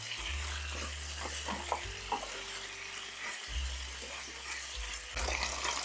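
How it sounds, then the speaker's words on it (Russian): Soft scraping and clinking of a utensil stirring potatoes and meat in a frying pan, over a low sizzle and a steady hum, with no voices. "Теперь все перемешиваю."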